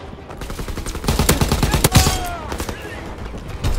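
Rapid automatic gunfire from a WW2 video game battle, the machine gun raking infantry near a tank, with dense bursts of shots and explosions throughout, loud and close.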